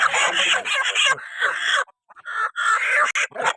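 Backyard chickens sick with flu cluck and squawk loudly and close, in rapid bursts with short pauses between.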